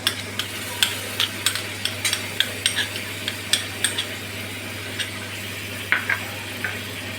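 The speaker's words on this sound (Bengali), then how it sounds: "এবার আমি যে ফাটিয়ে রেখেছিলাম দইটা 50 গ্রামের মতো, সেই দইটা এবার আমি দিয়ে দেবো" Yogurt going into a sizzling spice paste in a pan for doi katla, with a steady fry hiss under regular spoon clicks and scrapes as it is stirred.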